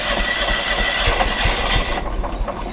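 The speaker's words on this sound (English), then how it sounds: "We're making great strides on this, getting this old Kawasaki motor started." Old Kawasaki engine on a John Deere 180 yard tractor cold starting, a loud close rough running clatter that settles into an uneven idle.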